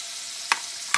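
Slider patties sizzling on a griddle, a steady close frying hiss with two brief sharp clicks or scrapes over it.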